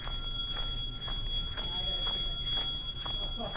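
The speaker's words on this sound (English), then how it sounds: "The fire alarms are now going crazy." Fire alarms go off indoors after a power outage, a faint steady high electronic tone ringing continuously with soft, scattered shuffling movement around it.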